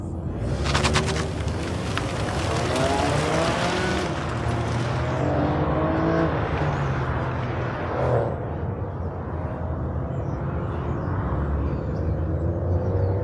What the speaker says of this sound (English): I see Lori Bailey out there with the Mazda 3